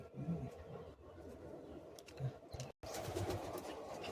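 Madrasi high-flying pigeons in a loft give soft, low coos, scattered and faint against a steady background hiss.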